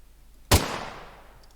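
A single sharp gunshot sound effect in an Unreal Engine 5 game rings out loud and close, its echo decaying over about a second, with no voices.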